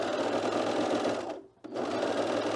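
A sewing machine stitches a cardigan in a close, continuous whir that briefly cuts out, then starts up again right away.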